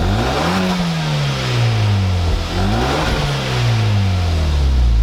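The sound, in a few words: Hyundai Veloster Turbo engine revving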